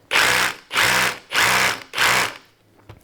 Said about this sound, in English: We're in rotary hammer mode.